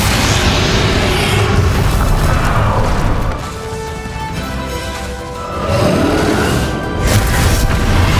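Bombarda blasting spell going off in Hogwarts Legacy on PlayStation 5, a loud booming explosion with crashing debris under constant dense game noise, easing briefly before another surge.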